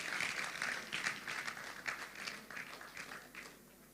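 An audience at a Nigerian public debate applauds steadily as a speaker walks to the stage, a dense patter of many hands clapping at moderate distance that holds for several seconds and fades slightly near the end.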